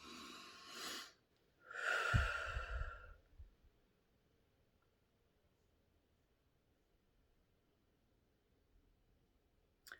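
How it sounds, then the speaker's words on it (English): Slow deep breaths during a guided relaxation exercise, two long airy exhalations close to the mic with a soft low rumble under the second, then near silence. "Some good deep breathing."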